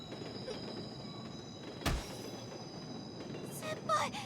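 Game scene of a train passing a level crossing, a steady low rumble of rolling wagons with a sharp clank near two seconds and brief metallic squeals toward the end, the crossing warning bells only faintly present.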